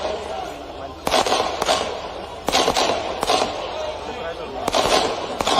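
Fireworks crackle and bang at a political roadshow event in Bhairunda, Sehore, with about half a dozen sharp bursts spaced irregularly over a noisy crowd background.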